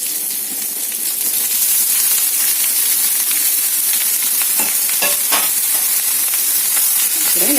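Thinly chopped ridge gourd pieces frying with browned onions in a pan, a steady close hiss and sizzle with occasional scraping stirs and clinks of the spoon.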